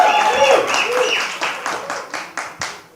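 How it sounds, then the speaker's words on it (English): Scattered, thinning applause for the poets and organisers at a poetry slam finale, a burst of clapping that tapers into a few separate claps toward the end, with talk heard near the start. "Let's give a round of applause to all the poets, the MCs, the compiers, the moderators, everyone that worked with content"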